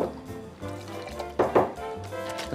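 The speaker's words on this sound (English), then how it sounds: "Then a splash of rosso vermouth." Rosso vermouth poured into a bourbon cocktail at a bar, with soft liquid trickles and splashes and a couple of brief louder glugs, close and quiet with no talk.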